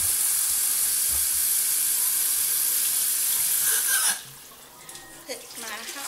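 Water runs from a tap into a kitchen sink as a strong, steady close hiss that stops abruptly after about four seconds, leaving a few faint clinks and splashes.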